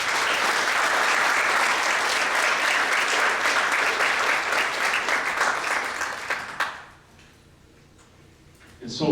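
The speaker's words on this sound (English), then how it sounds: "You guys want to clap? You guys can clap." Dense, loud audience applause at a youth leadership conference talk at Northwood University, sustained for about six seconds before stopping abruptly, with a short burst of noise at the very end.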